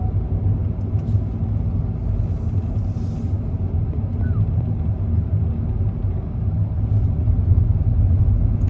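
A car drives through evening peak-hour traffic in Riyadh, heard from inside as a loud, steady low engine and road rumble that runs unbroken throughout, with no talking.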